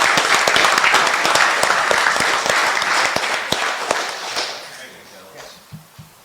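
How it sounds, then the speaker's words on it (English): Loud applause from a large crowd, steady clapping that gradually thins and fades toward the end, with faint voices underneath. "One last round of applause for these young men and their coaches."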